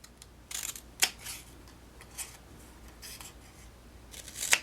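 Scissors snip an angled cut through paper for a paper pumpkin craft kit, giving a few crisp close-up cuts with soft rustling of paper between them and no voice.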